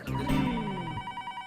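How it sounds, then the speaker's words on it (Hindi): A telephone bell rings with a bright, steady electronic trill, loud and close, sounding alone without any talking. "फोन आया।"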